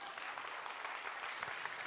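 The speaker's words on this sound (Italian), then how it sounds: "Grazie, un applauso." Audience applause at an Italian book-and-film award event, a dense, even patter of many hands clapping at moderate distance, steady throughout the brief moment.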